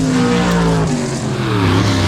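Gasser drag race cars launching at Lassiter Mountain Dragway, loud roaring engines with rising revs and a high-RPM howl, close and continuous.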